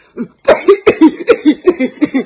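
A rapid series of about ten sharp coughs in close succession, loud and near, with no speech.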